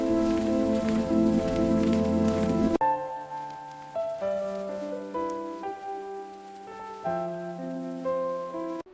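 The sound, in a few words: rain falling on market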